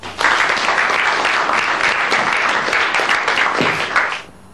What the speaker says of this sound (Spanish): Como bienvenida, vamos a darle un fuerte aplauso.